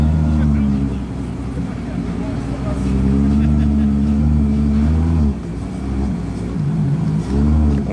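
A Ferrari Monza SP2 drives through Paris streets with a loud, low engine drone that rises and falls as it moves, while people talk over it throughout.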